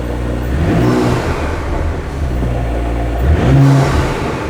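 A 2018-2025 Audi S5 B9 with an upgraded air intake idles loud and close while warming up, then rises in a single short rev before settling back.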